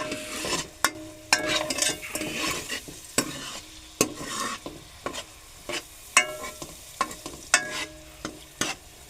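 Soybean chunks coated in salt, masala and turmeric sizzle in hot tempering oil while a spoon stirs and scrapes the pan in repeated sharp knocks, loud and close, with no talk.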